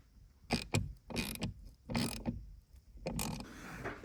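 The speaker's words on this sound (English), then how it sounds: "Tightening up the bolt to secure the lever down." A ratchet tightens the bolt that secures a mechanical coupler lever on a Fiat Panda 4x4, heard as several separate bursts of fast clicking, close and fairly loud, with short pauses between strokes and no talking.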